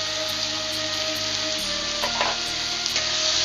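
Ginger-garlic paste with chilli, black pepper and turmeric powders fries in hot oil for an egg bhurji curry, a dense, constant sizzle with a few stir scrapes, close and unbroken, with no talk.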